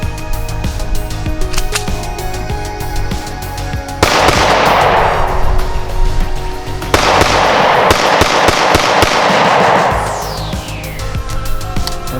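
A Springfield XD pistol fires steel-cased ammunition, loud sharp reports cracking in rapid succession over several seconds and booming close and harsh.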